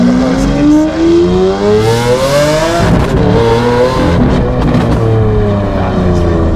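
A straight-pipe Lamborghini Aventador S Roadster engine roars very loud and close, its pitch climbing steadily through a long rev before a sharp crackling break and renewed surging, with no talking.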